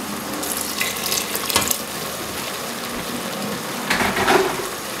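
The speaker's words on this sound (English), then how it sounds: "I'm just adding a tiny bit of water" Water trickles and splashes into a pan of simmering chickpea curry sauce, a steady close pour with brief louder surges and no talking.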